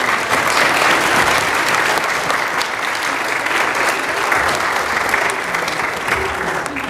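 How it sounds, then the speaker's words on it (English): A church congregation breaks into loud, sustained applause for a great grandmother, a dense wash of clapping from many hands that holds steady throughout with only faint voices beneath. "Please applaud that woman."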